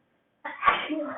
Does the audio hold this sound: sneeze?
yes